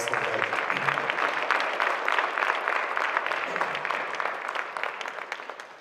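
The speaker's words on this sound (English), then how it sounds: "Let's clap our hands for an awesome legend." A church congregation claps together at a celebration-of-life memorial service, sustained, dense applause that stays steady for several seconds before easing slightly toward the end.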